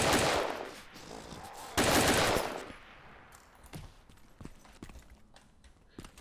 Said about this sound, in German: Ich werde doch mal eben rumschießen.